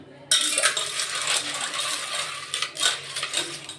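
Silver anklets are dropped into water after scrubbing, giving a close, steady jangle of small metal chimes and clinks that runs continuously with brief louder bursts.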